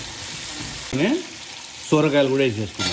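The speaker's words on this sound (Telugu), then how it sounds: "వేసుకొని ఇవన్నీ కూడా మంచిగా ఫ్రై చేద్దాం" Vegetables, including tomatoes and bottle gourd, sizzle in oil in a pan for Hyderabadi mutton dalcha, a soft steady frying hiss running underneath a woman's speech that starts and stops.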